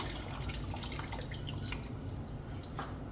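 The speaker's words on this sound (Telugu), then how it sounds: "ఆ పులుసు ఇందులో వేసేసుకుంటున్నాము" Tamarind extract poured into a pot of tamarind rasam, a soft continuous trickle of liquid up close, steady and fairly quiet with no talking.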